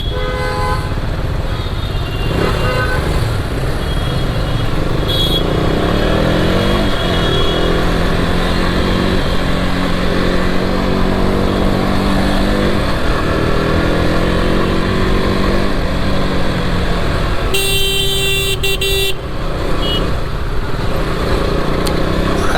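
Busy Mumbai city traffic heard from a KTM RC 200 motorcycle in motion, with a steady engine drone and road rumble throughout and repeated horn toots, including a sharp loud burst of honking near the end.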